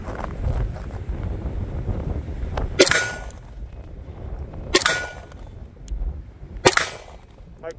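A Glock pistol fired outdoors in extreme cold gives three sharp, loud shots about two seconds apart, each with a short ringing tail, over steady wind rumble on the microphone.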